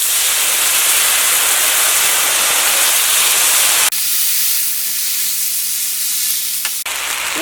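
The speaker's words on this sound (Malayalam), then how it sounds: "കഞ്ഞെള്ളം ചേർക്കാം." Rice water poured into a pan of golden fried onions, a loud sizzling hiss that runs steadily, then drops abruptly to a quieter bubbling simmer with a faint steady hum before a brief burst returns.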